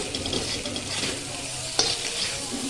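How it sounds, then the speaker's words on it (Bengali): Potatoes stir-fried in a spice masala for peas kachori's alur dom, a continuous moderate sizzle with scraping spatula strokes and a sharp clack near the end. "এর মধ্যে আলুগুলো ঢেলে দেবো। আলুগুলো ঢেলে দিয়ে আবার একবার ভালো করে কষাবো।"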